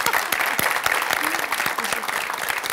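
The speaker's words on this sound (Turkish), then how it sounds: "Hocama bir cesaret alkışı." An audience in a Turkish talk-show studio breaks into encouraging applause, brisk, dense clapping with distinct sharp hand claps standing out up close, sustained for a few seconds.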